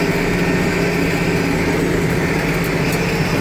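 Case IH 1086 tractor engine running steadily while driving along at about 13 mph, a continuous loud broadband drone with low rumble and no pauses.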